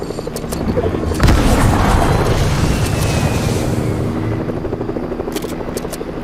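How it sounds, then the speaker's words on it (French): A helicopter in a French-language sniper-mode shooter game gives a loud, continuous rotor roar with a heavy boom near the start, staying dense and close throughout. "il y a l'hélico là"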